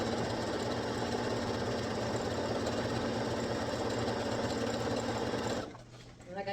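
A sewing machine runs a continuous fast stitching buzz through Ankara skirt fabric, loud and close, then stops abruptly near the end.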